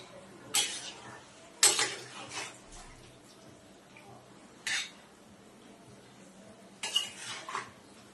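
A utensil scrapes and clatters in a pan of chilli chicken after hot water is added, giving four separate bursts of stirring with quiet gaps between them.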